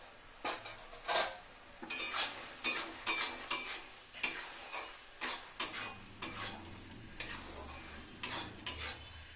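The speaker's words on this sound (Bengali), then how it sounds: "এবার আমি নাড়তে থাকবো যতক্ষণ না এই জলটা শুকিয়ে যায়।" Shredded cabbage for bhorta is stirred in a pan until its water cooks off, a spoon scraping the metal in a steady run of sharp, close strokes over a light sizzle.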